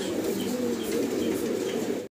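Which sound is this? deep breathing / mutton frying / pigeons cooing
pigeons cooing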